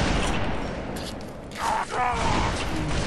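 Loud, dense gunfire fills a Halo 2 Vista multiplayer match, with rapid overlapping shots and mechanical clatter running almost continuously and a brief dip in the middle.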